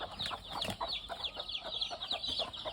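Free-range mother hens with chicks squabble, giving quiet, rapid clucks and short agitated squawks in a busy, uneven stream at close range.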